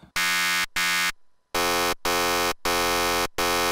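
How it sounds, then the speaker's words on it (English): Buzzy FM synth lead on an Access Virus A with a square-wave sub oscillator giving a deep, thick low end plays short repeated notes separated by brief gaps, loud and without voices. "Now I'm going to add just a little bit of sub."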